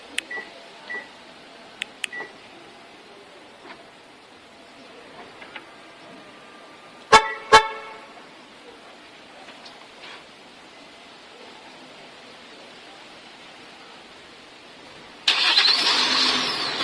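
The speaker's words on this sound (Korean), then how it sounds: "이 상태에서 원격 시동이 걸리면 원격 시동이 걸렸다는 크락션을 2번 울려주고요" A car started by remote with the factory key fob gives two short horn chirps at mid-clip. Faint clicks come before them, and the engine catches and runs near the end with a steady rising rumble.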